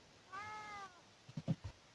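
A cat gives one clear, drawn-out meow, fairly faint and in the background, followed by a few short soft thumps or chirps.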